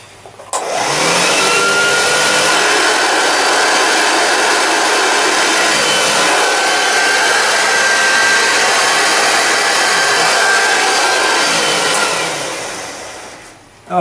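A 1973 Hoover Junior 1354A Dirtsearcher upright vacuum cleaner switches on and runs with a loud, steady whooshing roar for about twelve seconds, then winds down.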